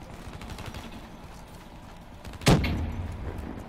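Gunfire in a video game: scattered low popping, then one sharp, loud shot about two-thirds of the way through, followed by a short rumbling tail.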